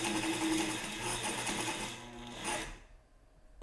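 A sewing machine runs in a steady, fast stitching whir for a couple of seconds, then slows and stops, leaving near quiet before a brief knock at the end.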